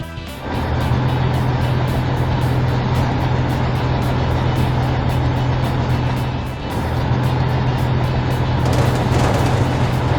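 A cartoon delivery truck with failed brakes speeds downhill, its engine a steady loud drone with a low hum throughout and a brief dip partway through.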